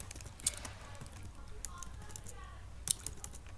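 Code being typed on a computer keyboard: soft, irregular clusters of close key taps with a couple of sharper clacks, quiet and steady throughout.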